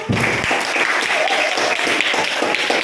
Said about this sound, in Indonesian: Oke, ini untuk suku Batak, tepuk tangan.